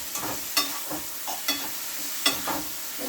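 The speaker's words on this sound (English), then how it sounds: "I'm going to mix it in." Soft scraping and stirring of Maggi seasoning into fried dumpling dough ingredients with callaloo, a few light, evenly spaced strokes, close and quiet with no talking.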